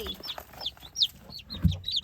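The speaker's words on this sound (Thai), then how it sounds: "ลูกไก่เกิดมาเยอะๆเลย จิ๊ดจิ๊ดจิ๊ดจิ๊ดเลย" Newly hatched chicks in a backyard duck and chicken coop, a quick series of high, thin peeps close by, with a soft low thump between them.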